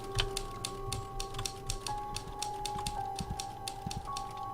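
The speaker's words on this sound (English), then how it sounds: "Oh, there's typing." Rapid typewriter-style keystrokes clatter in The Novelist, an even run of crisp taps over a soft steady hum and faint background tones.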